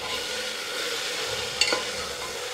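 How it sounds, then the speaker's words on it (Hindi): Vegetables frying in a pan for mushroom biryani, a faint steady sizzle with a brief scrape of stirring near the end. "अभी जो वेजिटेबल लिया सारे वेजिटेबल ऐड कर देती हूँ और अच्छी तरह से मिक्स करके"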